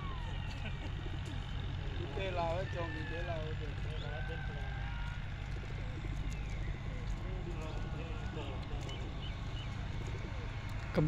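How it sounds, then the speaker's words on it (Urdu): Pigeons coo softly amid a steady low background rumble of traffic, with faint bird calls scattered throughout. "کبوتر لگ گئے ہیں"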